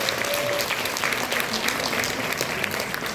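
An audience applauds doctors at a talk, dense steady clapping throughout at moderate volume with a faint voice briefly underneath.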